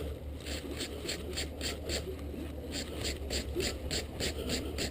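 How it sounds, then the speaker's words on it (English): A wire brush scrubs across a freshly forged, welded steel belt buckle in quick, steady strokes, giving a close, rhythmic scratching rasp that repeats about three times a second over a low background hum. "So let's take a wire brush"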